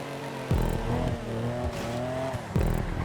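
Locust race car in GTA 5, an engine revving up in pitch and dropping sharply at each gear shift, then climbing again, loud and close with no talking.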